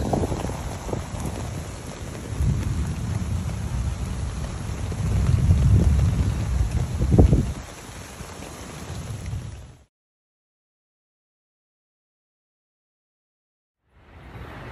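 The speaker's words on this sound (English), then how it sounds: "We got a severe storm outside." Steady heavy rain from a severe thunderstorm hisses over everything at a campsite, with gusts and rumbling swells, before cutting to sudden silence and then resuming.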